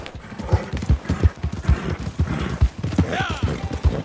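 Horse hooves from the video game Red Dead Redemption 2 clip-clop in a steady rhythmic gallop during a winter endurance race. The beats are close and distinct, with faint background game sounds and a brief whinny-like tone near the end.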